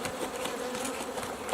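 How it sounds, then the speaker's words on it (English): Russian honey bees hum close by in a dense, continuous buzz with a few louder wingbeat swells from individual insects. "These came from Foley's Russian bees."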